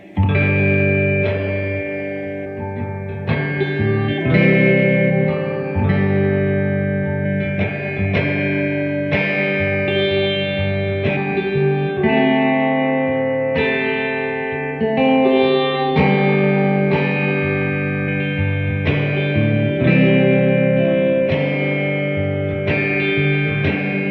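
A 1957 Gibson ES-225td electric guitar played through an Allston amp with reverb at about halfway rings out in sustained chords and melodic notes, loud and continuous with a lingering wash of reverb.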